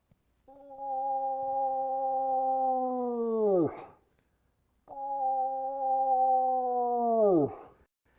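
A human voice imitates a cow moose mating call, two long nasal moaning wails each ending in a falling, breathy drop, separated by a short pause, close and clear with no other sounds.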